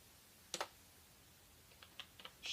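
A command is typed on a computer keyboard into the terminal of a Raspberry Pi Zero W. A few sparse, soft key clicks come one after another against a quiet, hissy room.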